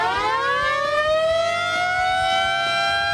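Siren mounted out of sight behind a vehicle's front grille, giving a loud, close wail that rises in pitch and holds steady, sounding alone.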